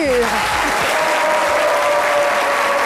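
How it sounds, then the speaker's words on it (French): A television studio audience on a midday show breaks into sustained, loud applause that stays even throughout, with a brief descending voice at the start and a faint held tone beneath. "Jessica Bomba, que je vous demande d'applaudir."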